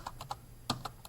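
Quick keystrokes on a computer keyboard, about eight light clicks in an uneven rhythm, close and clear with no voices.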